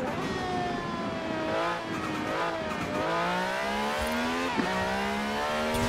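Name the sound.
car engine revving in video game Forza Horizon 4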